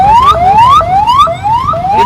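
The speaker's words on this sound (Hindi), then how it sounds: "एम्बुलेंस होने का फायदा है, सायरन का फायदा उठा रहा है।" Wailing ambulance siren on a road beside a closed railway crossing, rising sweeps repeating about every half second, loud and close with no talk over it.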